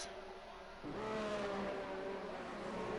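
Formula 1 car in a racing video game pulling out to overtake at the Belgian Grand Prix, its high engine whine climbing in pitch as it accelerates, fairly faint and steady with no talk.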